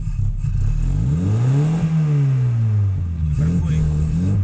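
A Chevrolet Chevette that is running strangely revs up, its engine pitch climbing and falling in a loud, steady drone that fills the whole stretch, with no talk over it.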